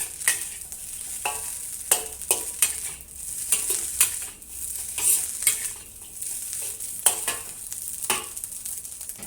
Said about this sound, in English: Stir fry swiftly and keep flipping the rice